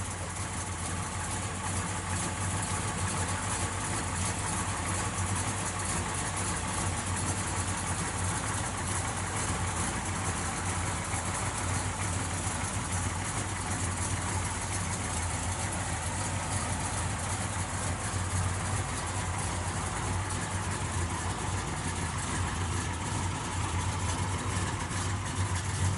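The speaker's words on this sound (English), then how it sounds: "It's got a set of stainless headers and dual exhaust out the back." A 1955 Chevrolet 210 two-door post car idles through stainless headers and dual exhaust, a steady low thumping rumble holding evenly and fairly quietly without a break.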